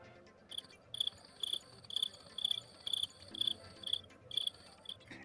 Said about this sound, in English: It's bad because I hear crickets.